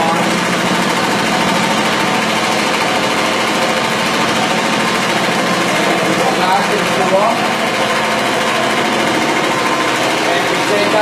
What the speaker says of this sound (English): the agitation from the machine agitates the carpets upside down and beats out the grounded dirt